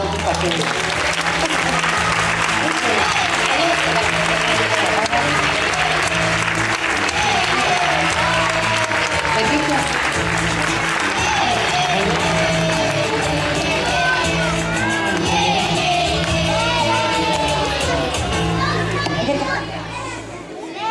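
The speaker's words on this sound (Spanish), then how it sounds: "Veña, con un forte aplauso." Applause fills a school graduation at a primary school in Vigo, sustained and loud over many seconds, mixed with children's chatter and occasional shouts before fading at the end.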